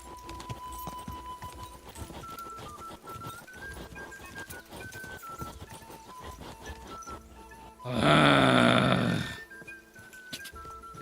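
Horse hooves clip-clop steadily in Kingdom Come Deliverance 2 under tonal game music, then a loud, harsh burst like a snort or whinny rises near the end before the hoofbeats carry on.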